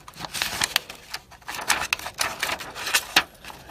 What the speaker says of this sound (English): We got some scissors cutting